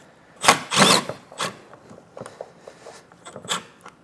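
A power drill drives a self-tapping ground screw from a Curt T-connector wiring kit into a 2020 Dodge, heard as a few short loud bursts of whirring, then quieter scraping and handling noises up close.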